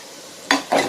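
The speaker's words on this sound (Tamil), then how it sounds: "நல்லா வறுத்துக்கலாம் லைட்டாக" Two quick scraping stirs sound in a pan as coriander, cumin and black pepper dry-roast, with a faint hiss of heat, close and brief.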